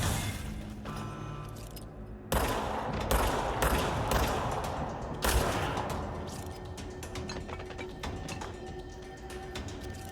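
Pistol gunfire in Control, loud sharp shots and bursts with two strong blasts near 2.3 and 5.2 seconds, scattered cracks and clatter throughout, fading into lighter impacts, no talk.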